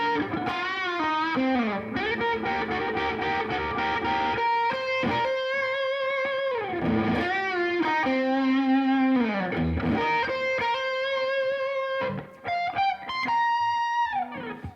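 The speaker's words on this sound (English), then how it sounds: "He had this really cool little double stop slide in there that sounds really cool." Electric guitar played with a double stop slide, two notes gliding together through a distorted, effects-laden tone, with repeated sliding phrases running loud and continuous over about fifteen seconds.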